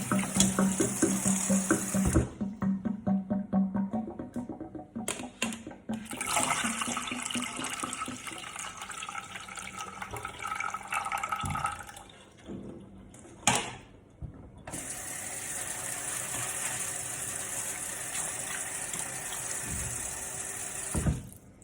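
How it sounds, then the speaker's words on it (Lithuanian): Water gushes into a pot of washed rice in several loud, splashing bursts separated by brief quiet gaps, then a long steady pour to the end. "Po to įpilam vandens."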